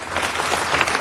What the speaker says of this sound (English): if we could give them a great round of applause for what they do and all our volunteers on Mediation Day